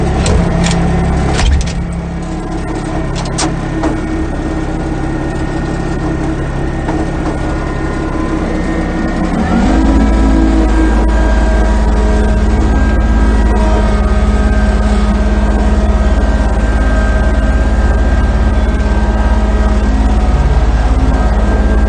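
A loud, constant John Deere F1145 engine drone heard from close inside the tractor cab, with a few clanks early on before the engine note deepens and holds steady.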